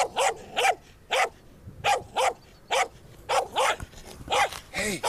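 A dog barks repeatedly in evenly spaced, loud single barks, close by, with brief quiet gaps between them.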